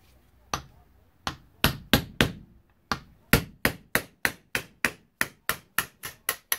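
Sharp metallic hammer blows drive a punch on a Honda CRF450R/CRF250R motocross fork during a spring change, starting as scattered strikes and settling into a steady, close, loud run of evenly spaced hits.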